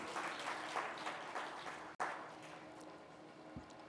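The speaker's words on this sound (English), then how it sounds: "we can give them another big round of applause," An audience at a hepatitis summit in Chennai, India, applauds steadily, a dense, fairly faint wash of clapping that breaks briefly and then fades away.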